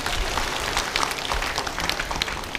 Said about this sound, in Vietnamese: Chúng ta cùng cảm ơn Sơ Lucia bằng một tràng pháo tay.